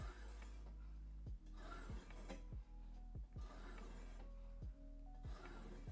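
A knife is drawn across a stone on an IKI Ruixin Pro guided sharpener in a steady rhythm of faint scraping strokes, about one every half second, with no talking.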